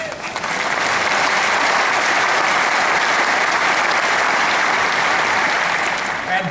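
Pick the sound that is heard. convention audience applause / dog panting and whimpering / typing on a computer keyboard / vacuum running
convention audience applause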